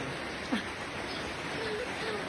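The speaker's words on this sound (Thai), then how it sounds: "ฝนตกจ้า" Rain falling as a steady, dense hiss that stays even throughout the short stretch, with faint bird calls in the background.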